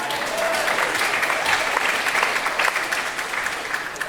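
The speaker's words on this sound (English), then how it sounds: "Give him a round of applause, everybody" An audience gives a trombonist a round of applause, with dense, steady clapping that fills the room at full volume throughout, lightly mixed with crowd noise.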